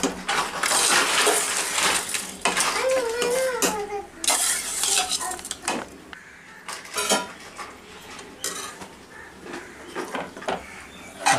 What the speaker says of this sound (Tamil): அரிசியை நல்லா கலந்து விட்டுக்கணும்